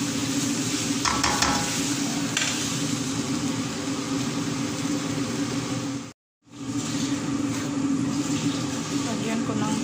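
Rice gets stirred into ground meat and green beans in a frying pan, a continuous close sizzle with scraping stirs, a brief dropout midway, and a voice talking over it.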